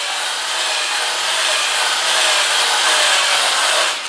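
Hand sanding the inside of a spinning wooden bowl on a lathe, a steady close hissing rasp of abrasive on wood that holds even and continuous throughout, with no voices.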